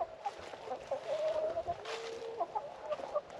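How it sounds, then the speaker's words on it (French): Two hens in a small pen give soft, repeated clucks and short warbling calls, fairly close and clear over quiet background. "Oh, il y a 2 poules direct là."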